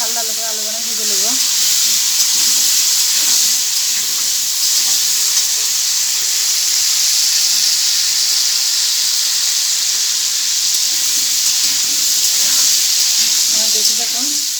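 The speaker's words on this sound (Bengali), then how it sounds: "লাল লাল করে আলুগুলো ভেজে নেবো।" Potatoes frying in oil in a pan produce a loud, continuous bright sizzle throughout, with someone talking briefly at the start and end.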